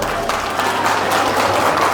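Guests at an engagement celebration applaud, a steady, dense wash of clapping from a crowd that fills the whole stretch at an even, loud level.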